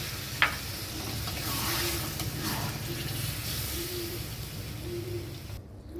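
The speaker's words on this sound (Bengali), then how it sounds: "এবার আমি কিছুটা জল দিয়ে দিচ্ছি।" Water poured into a frying pan of salted elephant foot yam curry for a prawn dish makes a steady, close sizzle that follows a brief splash, with faint stirring underneath.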